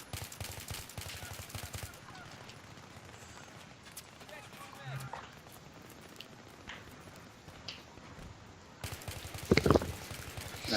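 Gunfire in the Battlefield 3 Canals team deathmatch map, with scattered distant shots through a muffled stretch and a louder burst of close shots near the end, including a sniper shot.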